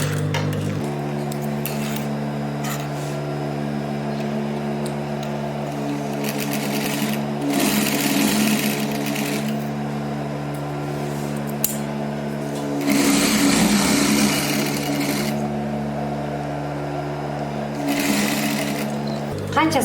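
A sewing machine stitches fabric in long, steady whirring runs, close by, with brief pauses and faint clinks between runs. A voice talks softly over the machine in places.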